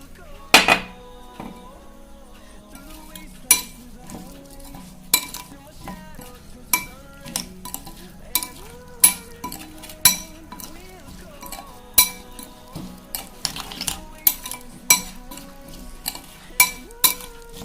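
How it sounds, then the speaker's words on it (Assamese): Garlic and ginger pickle with spices and oil being stirred, a spoon knocking and clinking sharply against the pot in a loose rhythm of strikes over a faint oily sizzle, close and alone without talk. "ভালকৈ মিহলাব যাতে মছলাৰ গুড়িটো ভিতৰত সোমাই যায়"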